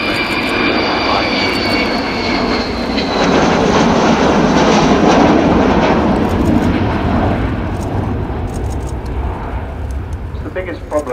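Loud, broad roar of the Avro Vulcan B2 bomber XH558's jet engines sweeping past at the RIAT 2015 airshow, RAF Fairford, sustained throughout with a rising and fading rumble, a voice talking over it.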